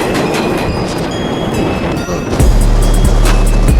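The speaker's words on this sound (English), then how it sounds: "There is a Manhattan bound local 7 train" A Manhattan-bound local 7 subway train runs past loudly and close, with clattering wheels and squeals over a heavy rumble that deepens and steadies toward the end.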